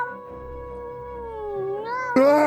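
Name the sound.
long cat yowl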